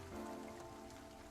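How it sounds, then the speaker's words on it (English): Rain sound effect from the visual novel If My Heart Had Wings, a soft, steady patter of rain that stays quiet and even throughout. "The ever-present, miserable rain."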